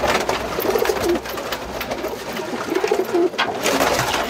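A Kalsara pigeon gives soft, low cooing calls, two bursts close by, over a steady background hum.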